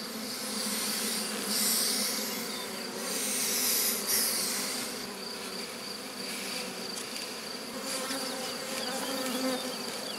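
Honeybees hum around a Miniplus hive being inspected and divided, a close, steady buzzing swarm that swells and eases slightly, with no speech.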